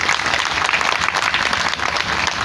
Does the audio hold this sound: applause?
yes